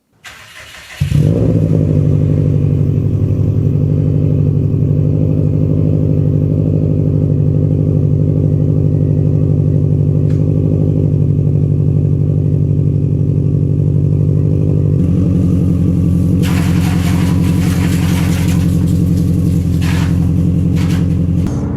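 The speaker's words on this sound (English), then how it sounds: "get a amazing Subaru rumble sound from the unequal length headers" A Subaru WRX with unequal length headers rumbles loudly and steadily while being driven, its deep burbling exhaust note holding throughout, with a slight shift in tone partway through.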